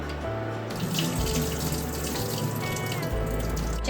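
Tap water runs steadily into a sink while rice is washed for making anarse, a continuous close splashing flow with small shifts as the grains and water are stirred.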